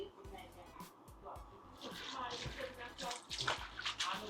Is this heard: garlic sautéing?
no